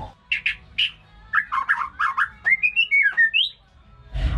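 A tame white-rumped shama (murai batu) sings nearby, giving short clear whistled phrases and then a rising, sliding series of bright notes, alone in a quiet setting.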